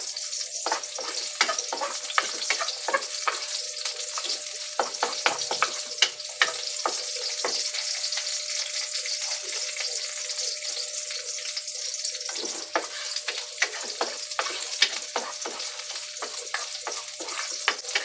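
Garlic and onion sauté in a pan for coconut-milk pakbet, giving a close, continuous sizzle with repeated scraping and stirring strokes and no talking.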